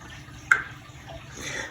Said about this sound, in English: I'm going to empty all these colors out.